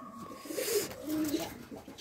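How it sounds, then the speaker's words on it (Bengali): A pair of white fantail fancy pigeons gives soft, low coos, two drawn-out calls close by but faint, over a quiet room-tone background. "এখানে এক জোড়া সাদা লক্ষা কবুতর দেখতে পাচ্ছেন"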